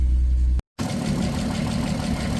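An Audi TT 8N engine runs steadily close by with a low, continuous rumble, broken by a brief cut-out of silence before the idle resumes without any voices.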